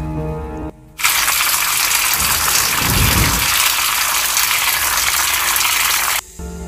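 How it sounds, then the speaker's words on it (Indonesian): A water tap runs in a bathroom, a steady fairly loud gush of water lasting about five seconds, starting and stopping abruptly, with no talking. "Iya, itu kan suara air keran."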